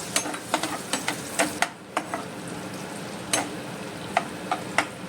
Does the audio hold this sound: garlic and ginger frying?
yes